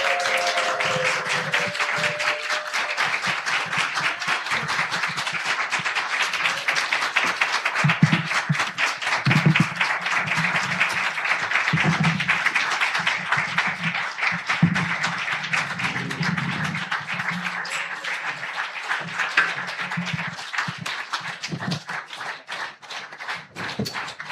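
A congregation at a Friday prayer meeting keeps up long, even applause as a visiting string ensemble walks off, the clapping dense and steady for over twenty seconds with faint murmurs underneath.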